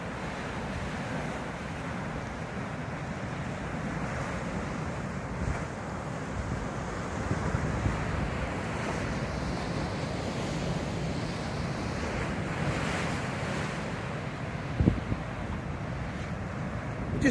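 Steady wind buffets the microphone while surf rolls and washes against the coast at Port Quinn, forming a continuous, loud outdoor roar with a few brief gusty bumps and no voices.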